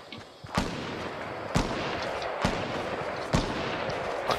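Gunshots in the video game Fortnite at Tilted Towers: four sharp, loud reports spaced about a second apart, each a broadband crack standing out over a steady wash of in-game noise.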